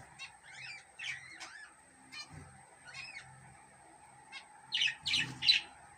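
Budgerigars chirping and squawking in short bursts, with a louder cluster of sharp chirps near the end over a faint steady hum.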